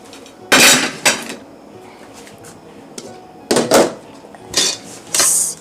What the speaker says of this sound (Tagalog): the sugar is in here and we will stir everything